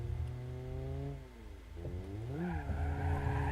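A car slides sideways in BeamNG Drive with a drift ESC mode, its tires squealing in long wavering tones over a humming engine drone, the pitch dipping and rising as the slide continues, close and steady.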